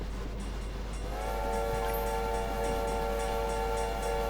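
Train whistle in a train video game sounds as a sustained steady blast over low rumbling engine noise, starting about a second in and holding to the end.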